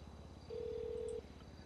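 A single steady electronic phone call tone sounds in a GTA roleplay game, a pure beep lasting under a second over quiet low background hum.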